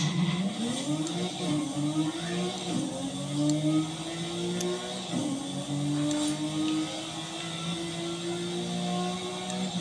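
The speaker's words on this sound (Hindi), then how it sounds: "आवाज कर रही है गाड़ी" A Porsche 911 Carrera S engine revs in the racing game Forza Horizon 5, with a continuous engine drone rising and falling in pitch as it accelerates and shifts, fairly quiet and without talk.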